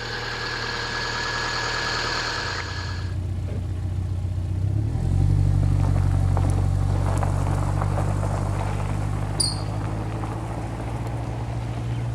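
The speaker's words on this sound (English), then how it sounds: "as you can hear, the car's running." A Subaru engine idles steadily after a water pump replacement, a continuous low hum that deepens and grows louder midway, with no speech over it.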